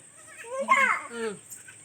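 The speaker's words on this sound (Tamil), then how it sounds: "போய் ஆட்டு குட்டியை கூப்பிடு" A baby goat gives one wavering, nasal bleat, close and fairly loud, with a softer second call just after.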